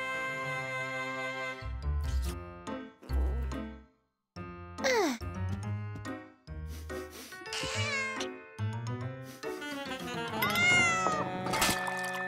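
A cat wearing a cone after a bandage meows repeatedly in drawn-out, wavering cries with brief pauses between, close and fairly loud, with a voice faintly present.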